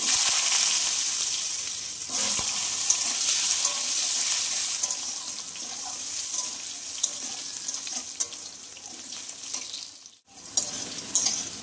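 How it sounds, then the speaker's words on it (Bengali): Potatoes frying in oil tempered with cumin and black cumin give a steady, broad hiss that holds throughout, with a brief break near the end and no talk. "তারপর সাদা জিরে আর কালো জিরে ফোড়ন দিয়ে দিয়েছি, এবার আলুগুলো দিয়ে দিচ্ছি।"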